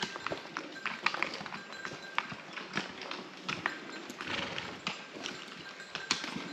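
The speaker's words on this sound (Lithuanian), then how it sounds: "O taip transportuojami maistas su arkliukais antais." Pack horses carrying food along a mountain trail on a Balkans trek, with irregular clip-clopping hoofbeats close by and fairly quiet over outdoor background noise.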